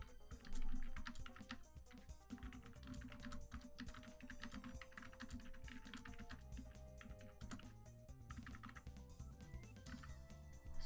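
Quick bursts of typing on a computer keyboard, a steady run of close, light key clicks lasting several seconds with no talk over them.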